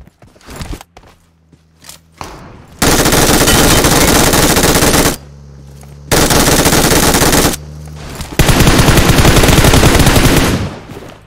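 Gunfire in the mobile game PUBG Mobile: long loud bursts of automatic fire, three sustained volleys separated by brief pauses, preceded by a few scattered single shots and footsteps.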